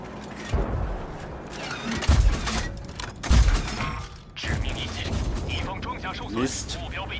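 Tank cannon shots in the World of Tanks game, with a Vickers Mk. E Type B or Renault NC 31, booming thuds and blasts scattered across the stretch amid mechanical clatter, with someone talking in German over them.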